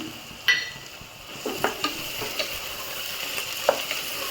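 Ginger garlic paste and garam masala fry in a pan for veg pulao, a soft steady sizzle broken by several sharp clinks and scrapes of a spoon against the pot, with no talking.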